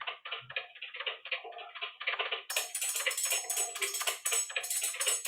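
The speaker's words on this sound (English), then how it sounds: "I would put up a rhythm track, percussion, right? And you'll hear it in the beginning of this track." A recorded percussion rhythm track plays back in a studio, a steady busy pattern of ticking, clicking hits with no bass or melody, brighter cymbal-like hiss joining halfway, moderately loud and alone.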